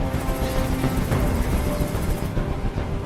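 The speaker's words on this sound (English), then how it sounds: "I can't stand that noise anymore. Tell that helicopter to get out of here." In the video game Detroit Become Human, a helicopter drones steadily overhead with a dense, rumbling rotor noise that fills the whole stretch, loud and continuous with no speech.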